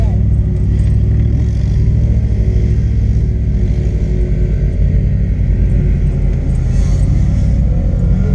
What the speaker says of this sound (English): I want to be able to hear the engine as we're racing